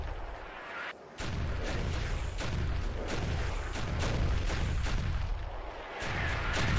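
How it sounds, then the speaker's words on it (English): Airstrike explosions in the Stubbs the Zombie game, a relentless barrage of heavy booms and blasts pounding in rapid irregular succession, loud and continuous with barely a pause. "Can this airstrike end?"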